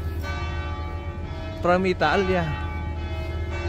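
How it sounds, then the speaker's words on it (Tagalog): A church bell in Venice rings at nine in the morning, a steady sustained toll heard from a distance beneath a brief stretch of speech. "Sakto nag-alarm kampana."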